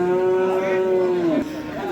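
A single long, close moo from a calf or bull at a livestock market, sustained and steady before dropping off, with faint crowd background.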